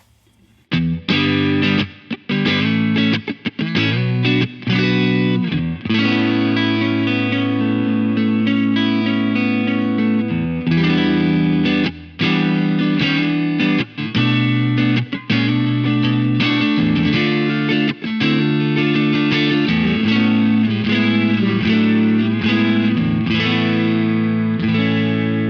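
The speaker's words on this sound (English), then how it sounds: "It's that sort of tape saturation. It sounds very analog, actually." Heavy, saturated electric guitar riffs through a Safari Pedals Rabbit Tape saturation plugin, with a warm, gritty analog tone, played loud and continuously with brief pauses between chugging phrases.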